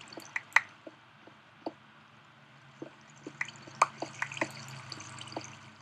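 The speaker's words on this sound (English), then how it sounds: "I hear water all around me." Water dripping in a Minecraft cave: scattered single drips and small plinks at irregular intervals, crisp and fairly close, over a faint low ambient rumble, with no voices.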